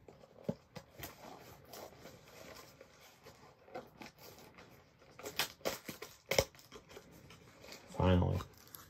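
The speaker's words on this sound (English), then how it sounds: "I'm trying to slice it without slicing the cards" A trading card pack wrapper being sliced open: scattered scratchy cuts and crinkles, quiet and close, with sharper snaps near the end and soft talk in between.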